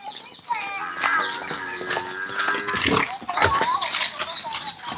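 Jaffarabadi buffaloes at a livestock market, hungry after arriving by morning truck, bellow and call in loud, overlapping bursts close by, with a busy crowd murmuring and talking underneath.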